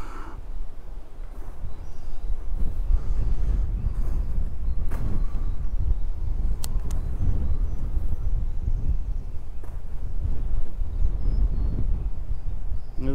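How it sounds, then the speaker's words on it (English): Strong, steady wind roars at a lakeside park at Stillhouse Lake in Harker Heights, Texas, buffeting the microphone with a constant low rumble that fills the whole stretch without letting up. "Windy as it is, you pretty much just have to lift your feet off the ground and the wind will blow you back and forth."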